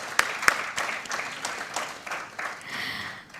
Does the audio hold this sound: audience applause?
yes